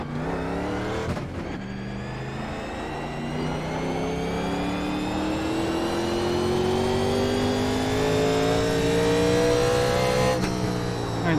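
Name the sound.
NASCAR 1987 Legends car racing at North Wilkesboro, video game iRacing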